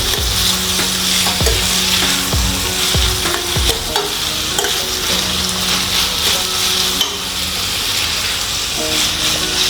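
Chopped tomatoes frying for a Goan squid masala, stirred in a pan with a loud constant sizzle and repeated scraping strokes of the spoon, close up.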